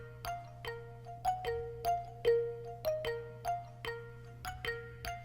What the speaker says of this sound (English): So I found another bell sample.